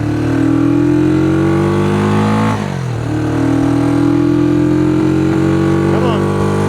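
A Honda CB360 motorcycle loud and close while being ridden down a road, its engine firing on only one cylinder with a steady uneven drone, a shift dip midway and then rising revs as it pulls away.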